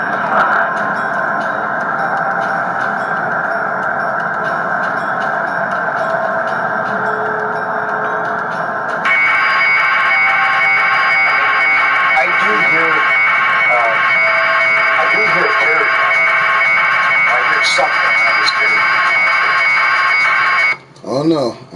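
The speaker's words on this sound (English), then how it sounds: "That had to be like the fire alarm or something." A fire alarm sounds as a steady, piercing electronic tone that shifts pitch partway through and continues loudly to the end, with a brief cutoff near the close.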